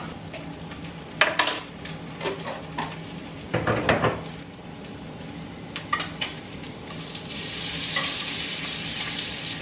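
Bacon frying in a pan, sizzling steadily while a utensil scrapes and clatters against the pan and dishes in a few sharp bursts, with the frying hiss swelling louder and more continuous toward the end.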